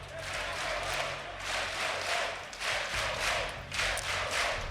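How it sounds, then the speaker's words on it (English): Crowd at a Rainbow Six Siege esports Major grand final in Berlin, a broad steady roar of chanting and cheering with rhythmic swells and claps, continuous and moderately loud throughout. "You can hear the chants in the background there."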